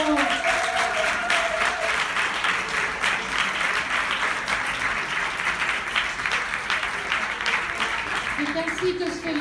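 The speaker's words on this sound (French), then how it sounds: "Je vous propose un très fort applaudissement pour notre chanteuse." Applause for a singer after a performance at an evening cultural event, a sustained, fairly loud wash of audience clapping with a voice speaking over it at the start and end.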